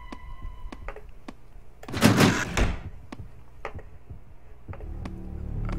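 A stuck door is forced open with a loud thudding, rattling burst lasting about a second, then a second heavier knock, set among scattered quieter taps and clicks in a quiet room.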